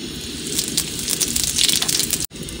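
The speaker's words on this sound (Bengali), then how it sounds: "তেল গরম হয়ে গেছে, ফোড়নে শুকনো লঙ্কা দিয়ে দিলাম" Dried red chilies and whole cumin seeds sizzling and crackling in hot oil, cooked outdoors while seated in a boat, a loud close spitting hiss that cuts off briefly near the end.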